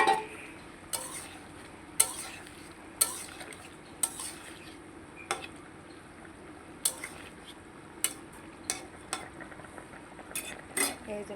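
Fried fish goes into a pot of simmering curry with a spoon or ladle, making scattered metallic clinks and scrapes over a soft bubbling bed, fairly quiet and close.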